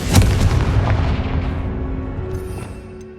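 In the Hogwarts Legacy video game, a Confringo spell strikes with a single deep, booming blast that rolls out and slowly fades.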